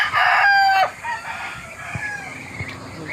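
A rooster crows once loudly up close, then a few softer clucks and farmyard noises follow.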